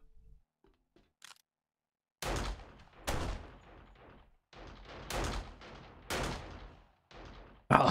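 Gunfire in a firefight in the video game 7 Days to Die, a series of sharp single shots each trailing off into a short echo, spaced about a second apart after a quiet start.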